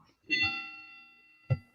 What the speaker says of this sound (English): Bell's been rung.